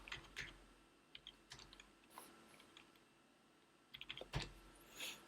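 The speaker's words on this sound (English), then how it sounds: "I'll just type a couple of things here." Faint, sparse keystrokes on a computer keyboard while filling in a registration form, a few scattered taps and a short cluster near the end, with no talking.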